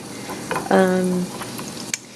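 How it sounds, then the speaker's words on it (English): Butter melting into hot oil in a pot gives a short burst of sizzling and frying, with a spoon or utensil clinking against the pot before and after. "we're going to melt our butter in our oil"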